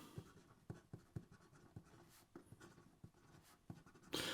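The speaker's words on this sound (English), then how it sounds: "So here we go with the writing sample for the Benu AstroGem." A Benu AstroGem fountain pen with a broad stainless steel nib scratches across paper in short, rhythmic strokes, faint and close, with no talk.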